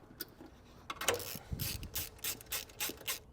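Ratchet wrench tightening a terminal nut onto the silver post of a battery breaker while installing a Roadmaster battery charge line kit on a 2020 Chevrolet Traverse; a quiet series of uneven mechanical clicks, close up, with no talking.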